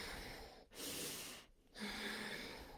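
A beginner's attempt at Ujjayi breath comes through the nose as a loud, hissing, snort-like airflow: one long noisy inhale followed by a long exhale, close to the microphone, with brief pauses between.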